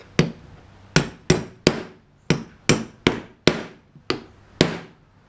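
Ends of carriage bolts hammered where the square shank meets a round hole on a DIY zipline brake: ten sharp metallic strikes at an uneven, quick pace, each ringing briefly and close.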